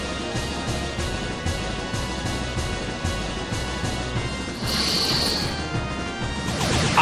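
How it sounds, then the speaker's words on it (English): Heavy attack hit in the Pokémon Battle Revolution video game, a crashing impact effect with a bright ringing tone rising over continuous loud game music and background noise. "A smashing blow!"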